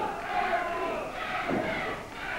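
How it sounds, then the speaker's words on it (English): A wrestling arena crowd at a 1980s Florida match cheering and roaring, a sustained swell of many voices that rises and falls in waves, fairly close and full. "And again, the crowd picking up."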